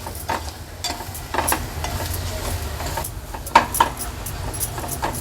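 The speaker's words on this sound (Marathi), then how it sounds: "हे वाटण आपण तेलावर परतून घेतलं" A spice paste of ground dry coconut sautés in hot oil for a mutton paya curry, with a steady close sizzle broken by the scrape and clink of a stirring utensil against the pan.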